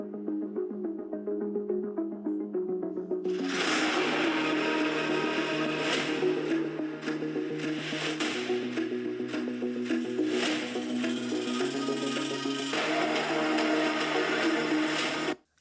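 Music played through the six-speaker system of an Alienware X16 R2 laptop at 50% volume, a fairly full mix that thickens after a quieter start and plays steadily with percussive hits throughout.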